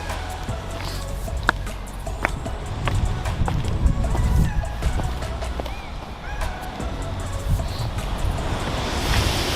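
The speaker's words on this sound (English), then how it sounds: "it's pretty wild waves" Wild ocean waves surge and break near the shore, a loud, rough, continuous wash of surf mixed with gusting wind buffeting the microphone, and no voices.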